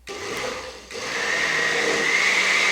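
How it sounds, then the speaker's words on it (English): A kitchen blender whirs steadily, blending blintz soufflé batter with baking powder; the motor drops briefly after a short first burst, then restarts and runs loud and continuous to the end. "Then I'm going to put the lid on the blender and get it blending."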